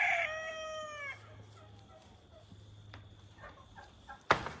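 A rooster crows loudly and close at the start, its call trailing off, followed by quieter clucks and scattered fowl noises over a low hum, with a sharp knock near the end.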